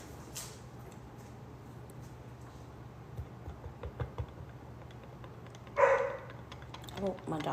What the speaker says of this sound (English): Oh, my dog just barked.